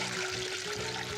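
Water pours steadily from three spouts of a homemade filter built from an old bucket, a continuous splashing gush with a faint tonal hum running beneath it.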